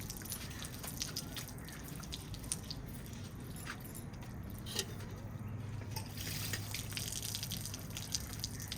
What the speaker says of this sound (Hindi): इनको जो है अच्छे तरीके से धोया जा रहा है ठंडे पानी से